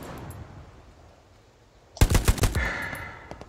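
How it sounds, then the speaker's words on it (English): Gunfire in Hell Let Loose, a World War II shooter, on Hill 400 with an StG: after a quiet stretch, a sudden loud, rapid automatic burst rattles out and trails off. "A gun. Yep, a gun."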